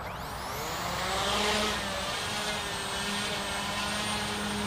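A WLtoys V383 collective-pitch RC quadcopter hovers nearby, its rotors giving a steady whining buzz that swells briefly and then holds level with no talking.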